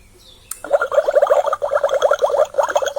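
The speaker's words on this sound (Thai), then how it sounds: "โอ้โหน้ำไหล" Water flowing from a toy water dispenser with a rapid, bubbly gurgle that starts abruptly and keeps going in close, uneven pulses with short pauses.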